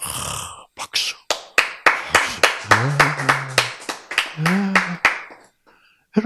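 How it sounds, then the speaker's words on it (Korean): About a dozen loud, sharp claps ring out at a steady, deliberate rhythm during a Korean Bible lecture, each one distinct and close, with a brief voiced sound under the middle claps. "박수."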